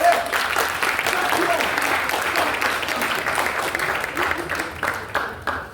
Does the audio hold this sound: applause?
yes